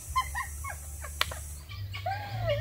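A hen gives short, repeated clucks and a drawn-out squawk near the end. The calls are moderately close, over a steady low outdoor hum, with no talking.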